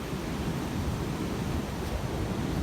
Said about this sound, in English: yeah, that's the waves out there. Look at it, pretty rough. It's pretty windy.